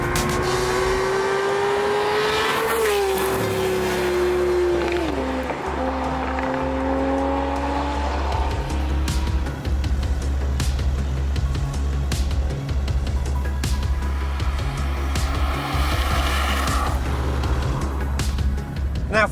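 A Porsche 911 GT3 sports car drives hard on a track, its engine loud and close throughout, with rising and falling revs as it accelerates and shifts, a steady deep roar running under the whole stretch.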